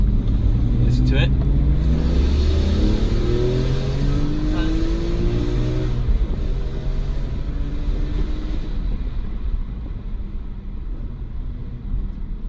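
BMW M3 E46 with SMG gearbox revving hard through a series of downshifts, engine note rising and falling under steady road and wind roar heard from inside the car with a window open, loud and close.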